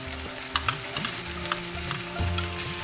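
Yogurt and masala mixture frying in hot oil in a pan while being stirred, a steady close sizzle with repeated scraping strokes of the spoon, no voices.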